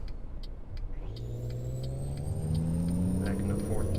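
Truck engine in American Truck Simulator shifting into fourth gear, a mid-pitched engine rumble whose tone drops and then climbs steadily as it accelerates.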